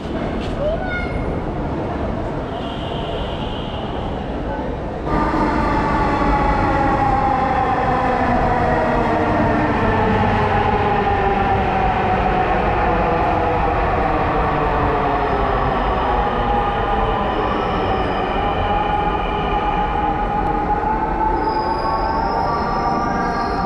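A Bangladesh metro rail train rolls into the station with a rising rumble and screeching wheel squeal, steady and loud for most of the stretch, with faint voices of waiting passengers in the background.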